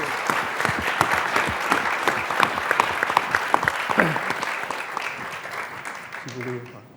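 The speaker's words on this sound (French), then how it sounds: "Je pense qu'on peut les applaudir très fort" An audience at a climate business lunch applauds the speakers with loud, sustained clapping that fades toward the end, with a voice briefly heard over it.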